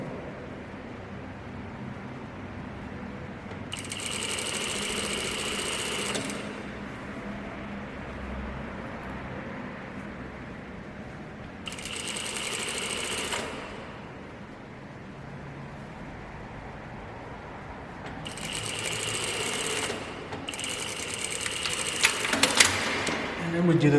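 Sewing machine stitching a back tack on elastic-waist pants, several short loud whirring bursts of a few seconds each, separated by pauses, with a person talking in between.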